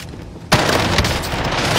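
Gunfire in a multiplayer shooter game cuts in sharply as a loud, sustained burst of shots and booms that continues to the end, with dense, noisy crackle throughout.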